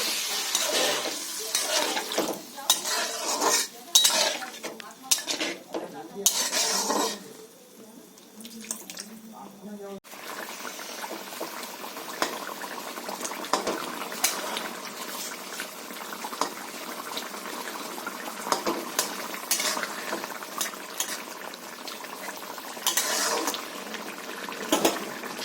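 Potatoes simmering in a pan after water is added, a steady bubbling hiss with occasional stirring clatter at a moderate level, with speech over the cooking sounds.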